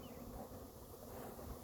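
Honey bees swarm around a newly installed package, a dense steady buzz droning at close range and holding even, with no pauses, for the whole moment.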